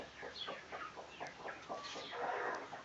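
A broody hen sitting on chicken and guinea eggs gives a run of soft, rhythmic clucks, close by but quiet, with no talking.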